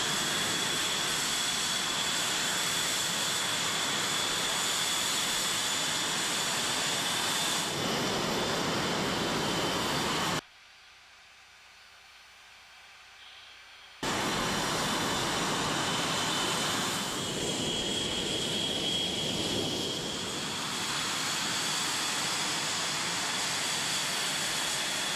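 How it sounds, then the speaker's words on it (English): F-16 and Blue Angels jets taxi out with a loud, continuous roar and whine of jet engines close by. The sound cuts out briefly partway through, then resumes just as loud. "As the planes taxi out"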